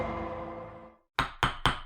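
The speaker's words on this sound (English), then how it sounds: "That sound you're hearing is the gavel that Forrest and Emily have gotten me." Wooden judge's gavel struck three times in quick succession, sharp close knocks following a fading musical sting.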